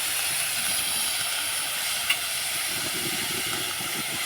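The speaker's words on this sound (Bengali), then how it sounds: "এবার আমি পনিরটাকে নাড়াচাড়া করে একটু ভেজে নেবো" Paneer pieces stirred and frying in a kadai, giving a steady, even hiss of sizzling throughout, with soft low rustling from stirring in the latter half and no voices.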